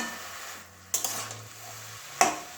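Bottle gourd curry with lentil dumplings being stirred in a pan: a couple of sharp spoon scrapes and clanks against the metal over a faint background sizzle, close by and without speech.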